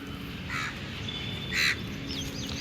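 A crow near a spot where street dogs are being fed gives two short caws, moderately loud over steady outdoor background noise.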